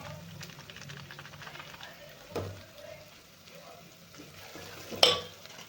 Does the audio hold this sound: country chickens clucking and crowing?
no